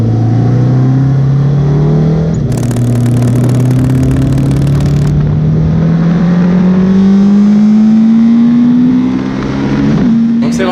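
An old motorcycle engine revs while riding, its pitch climbing steadily and falling between gear changes over loud wind rush and road noise, with a brief burst of hiss early on.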